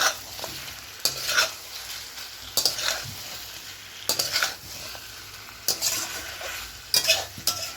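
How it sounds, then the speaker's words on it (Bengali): Potato pieces are stirred through mutton curry masala in a pan for Bengali mutton curry, loud spoon scrapes repeating about every second and a half over a steady close sizzle of oil. "আলুর ভেতরে যাতে মশলাগুলো ভালো মতো ঢোকে সেই জন্য আমার মশলার সঙ্গে আলুটাকে বেশ ভালো করে কষিয়ে নিচ্ছি"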